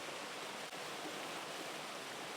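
Waterfall rushing in a steady, broadband hiss of falling water, continuous and even with no voices.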